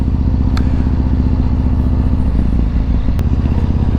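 A motorcycle engine drones loudly and steadily while the bike rides along, a constant low rumble with a brief clatter partway through.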